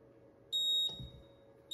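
A fingerprint safe, model A1.0, gives a single sustained electronic beep after its reset key is held, followed by a quick click and the start of a second beep, close and clear over a quiet room.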